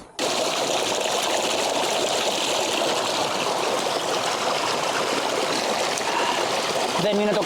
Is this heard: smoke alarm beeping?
no